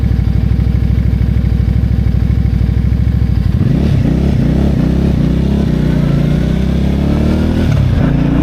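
A Benda Napoleon 450 motorcycle engine, hot from a test ride, idles in a loud, even putter. Partway through it revs up into a rising, wavering drone that stays close and strong to the end.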